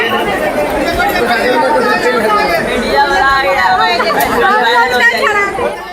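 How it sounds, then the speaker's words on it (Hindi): A large crowd packed around a temple in Lakhisarai, Bihar, on a Sawan Monday during a stampede: a steady, dense roar of overlapping voices and shouting, loud and close, with no pause throughout. "इतनी भीड़ के बीच देखिए भगदड़ मची है"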